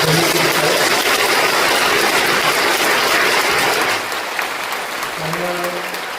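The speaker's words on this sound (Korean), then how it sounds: "박수로 한번" A church congregation applauds at a pastoral succession ceremony honouring a retiring senior pastor, steady and dense clapping that drops slightly in level near the end, with faint voices or tones underneath.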